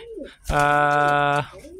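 A single drawn-out pigeon coo, a steady harmonic hum lasting about a second, close and clear, with faint outdoor background on either side.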